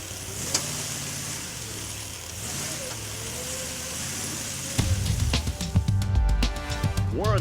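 A propane-powered off-road truck engine runs steadily, then grows louder and rougher partway through as it drives into deep water, with splashing and sloshing bursts near the end.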